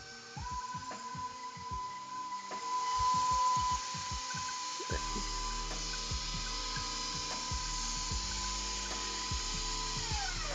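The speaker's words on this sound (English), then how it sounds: "Let me turn that up a little bit and get that mixing around." An electric stand mixer blends oatmeal raisin cookie dough, its motor whirring steadily after speeding up partway through, with rhythmic knocking and scraping from the beater turning through the thick dough, close and alone.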